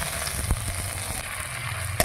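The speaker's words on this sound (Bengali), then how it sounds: "এবার আলু পটল ভেজে নিচ্ছি" Potatoes and pointed gourd frying in a pan for a fish curry give a steady, close sizzle that holds evenly throughout, with a couple of faint knocks.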